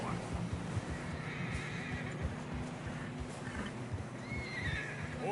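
In the game Red Dead Redemption 2, a horse in fresh snow whinnies and snorts, a moderately loud neigh over steady hoof clip-clop and wind, with voices talking beneath.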